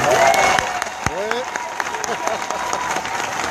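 Crowd applause at a political speech at a campaign headquarters, a steady wash of clapping that swells at the start and carries on beneath someone speaking.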